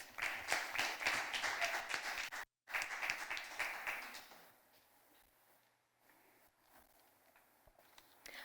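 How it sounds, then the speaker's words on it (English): Audience applause at a Caribbean inter-secondary school debate as a speaker approaches the podium: dense, loud clapping from a crowd that briefly cuts out, resumes, then thins and fades into quiet room noise. "Please give her a round of applause."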